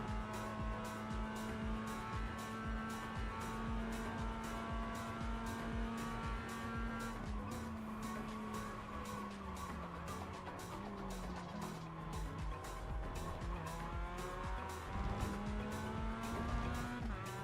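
A Mazda MX-5 race car in iRacing drones steadily with a high buzzing engine note that rises and falls through gear changes, with tire scrub underneath, loud and continuous throughout.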